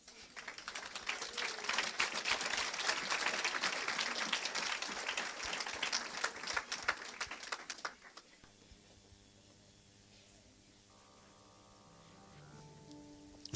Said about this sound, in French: Viens, on acclame Jésus.